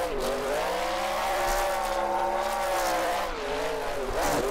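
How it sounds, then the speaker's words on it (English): A drift car, the 2021 ESDA Alec Hohnadell replica, rides along a wall, its engine howling loud and steady while the tires squeal continuously, heard from the driver's spot with no talking. "Oh man, that is a very solid wall ride"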